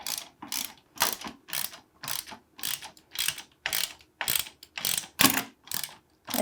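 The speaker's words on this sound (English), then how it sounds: "Put your lock nut on the other side and tighten." Quick ratcheting clicks from a wrench tightening a lock nut during assembly of an EarthWay 2600A-Plus broadcast spreader, about a dozen even, close strokes in a steady back-and-forth rhythm with no talk.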